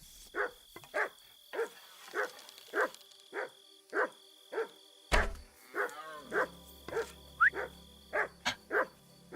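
Repeated barking from a large dog in a video game, about fifteen evenly spaced barks that are clear and fairly close, with a brief thump and some game ambience partway through.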